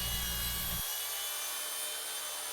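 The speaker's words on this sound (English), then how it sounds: "I had to cut the slab in half so that I could fit it through my planer" A saw cuts through a thick live edge wood slab, splitting it in half for a coffee table build; a steady, loud broadband rasping with a heavier low rumble for the first second, then continuing thinner and constant to the end.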